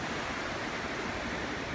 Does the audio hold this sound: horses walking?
no